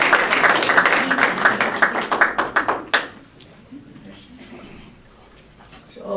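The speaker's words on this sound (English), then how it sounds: "Round of applause." An audience at a university best-practices session claps in a burst of rapid, dense applause for about three seconds, which then cuts off abruptly into quiet room tone with faint murmuring.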